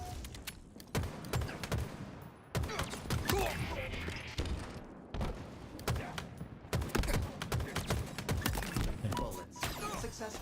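Rapid bursts of automatic gunfire and sharp impacts from Halo Infinite multiplayer, dense and repeated throughout, mixed with game effects and occasional voices.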